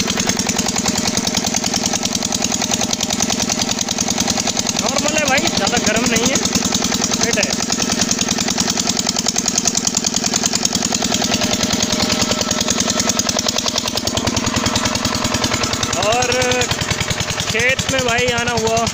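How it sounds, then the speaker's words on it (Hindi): A diesel engine drives a borewell water pump beside a sugarcane field, chugging in a steady, loud, close rumble throughout, with a voice talking briefly over it now and then. "ये इंजन सुबह से चल रहा है भाई"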